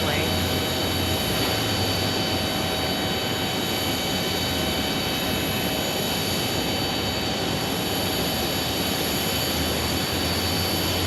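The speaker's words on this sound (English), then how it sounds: "those CRJ 900s, noisy little fella." A SkyWest CRJ 900 jet at Phoenix Sky Harbor airport gives off a loud, continuous engine roar with a steady high whine, heard nearby throughout with no pause.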